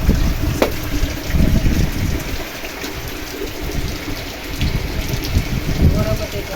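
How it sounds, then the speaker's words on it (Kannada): Heavy rain pours down steadily on a green backyard garden, a dense, loud wash of drops close by with surges of intensity and no talking. "ಫುಲ್ಲು ಮಳೆ ಇವಾಗ ಫುಲ್ ಜೋರಾಗೋಯ್ತು."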